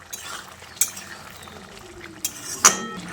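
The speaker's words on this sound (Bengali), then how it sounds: "চিনিটা দিয়ে সব কিছুকে একসঙ্গে ভালো করে মিশিয়ে নিচ্ছি।" A spoon stirs sugar into a gourd curry in a pan, soft scraping and shuffling punctuated by a few sharp metallic clinks of utensil against the pan, close and unaccompanied by speech.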